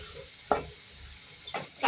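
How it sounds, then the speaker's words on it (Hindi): Ginger garlic paste frying and being stirred in a pan with sliced ginger and chillies: a steady low sizzle with a few louder scraping stirs, close up and without talk. "फ्राई करेंगे इसको।"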